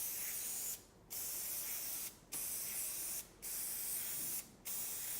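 TensorGrip contact adhesive hisses steadily from a spray gun in four long sustained bursts, each cut by a brief pause, close and loud with no talking.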